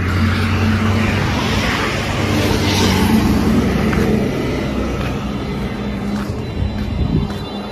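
A road vehicle arrives on a hot day along a mountain pilgrimage route toward Kedarnath, its engine a steady, loud rumble over continuous broadband road noise with no pause throughout.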